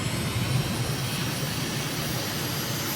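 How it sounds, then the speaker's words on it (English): Aircraft engine running up on the runway in Microsoft Flight Simulator, a steady, dense roar with a faint high whine, holding constant throughout without talk. "Let's run the engine up."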